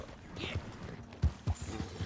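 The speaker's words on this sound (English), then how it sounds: "So I'm going to ride my horse as far as I can go." A horse's hooves clip-clop over a rocky hillside in Red Dead Redemption 2, giving a few distinct, unevenly spaced strikes over a quiet background.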